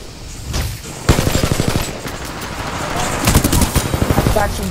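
Gunfire in the shooter game Titanfall 2: rapid automatic bursts of close, punchy shots in two main volleys, layered over a busy game background.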